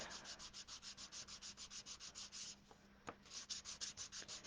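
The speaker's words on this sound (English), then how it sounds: "So I'm just using my sanding block." Rhythmic back-and-forth sanding strokes, a block scraping paper in quick even passes, close up, briefly pausing near the middle before resuming.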